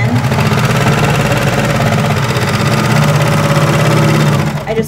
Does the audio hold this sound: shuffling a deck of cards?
no